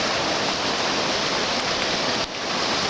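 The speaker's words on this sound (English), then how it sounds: "I'm sure you can hear the water by now." Floodwater of the New River rushes along high up the bank, a dense, steady roar close by, heard alone with no voices and one brief dip in loudness.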